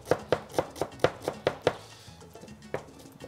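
A knife chops an onion on a board, eight quick, even, close thunks in a steady rhythm, then a pause and two slower cuts.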